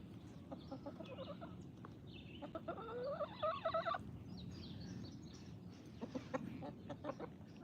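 Chickens cluck and chatter faintly among livestock at feeding time, a busy overlapping mix of short clucks and warbling calls over a low, steady background rumble.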